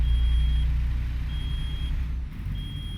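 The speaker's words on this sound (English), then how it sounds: "So you hear that? That's called the engine brake." Engine compression brake on a heavy truck in American Truck Simulator, a continuous loud low rumble droning steadily under intermittent high reversing-style beeps, with no talking.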